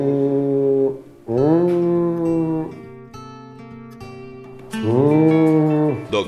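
A cow moos three times, loud and drawn out, each call falling in pitch, with short silent gaps between the calls.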